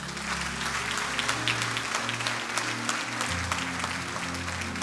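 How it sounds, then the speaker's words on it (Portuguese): A church congregation applauds the Lord during a sermon, many hands clapping in a continuous wash over a sustained low organ or keyboard chord that shifts pitch beneath it. "Oh, aplaudo o Senhor."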